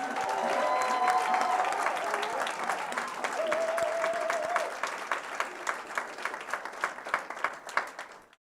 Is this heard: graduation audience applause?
yes